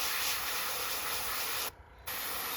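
Gaahleri Mobius 0.2 mm airbrush spraying paint onto a fishing lure, a close, steady hiss of air and paint that cuts off for a brief moment and then resumes.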